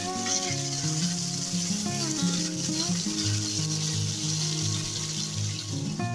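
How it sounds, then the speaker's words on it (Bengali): Poa fish sizzles and crackles steadily in hot oil, cooked Barishal style, as a continuous frying hiss under prominent background music. "এখন আমি হচ্ছে পোয়া মাছটাকে হালকা একটু ফ্রাই করে নিয়েছি"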